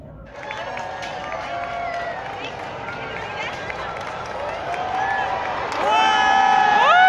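A large, lively crowd gathers at an outdoor Canada Day celebration. Overlapping voices, children's shouts and cheers form a continuous murmur that grows a little louder and busier toward the end.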